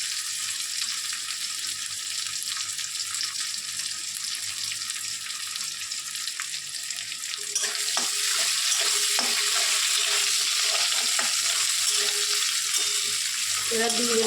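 Ginger, garlic and whole chilies sizzle in hot oil in a pan, a steady quiet fry that swells louder and brighter halfway through as fresh ingredients hit the oil, with occasional stirring clatter.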